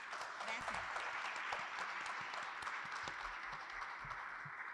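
Audience applause at a book presentation held at a constitutions museum, a continuous faint patter of clapping from a seated crowd, fairly distant and even throughout.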